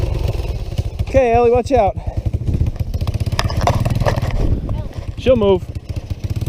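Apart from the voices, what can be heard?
three-wheeler motorcycle engine starting and running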